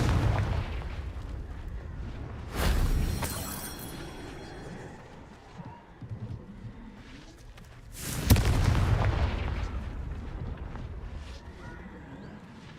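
Confringo fire blast spells in Hogwarts Legacy on Xbox Series X: two heavy booming explosions, one early and one later, each bursting loud and then trailing into a rumbling decay over low background game ambience.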